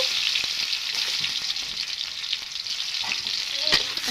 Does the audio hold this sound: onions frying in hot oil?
yes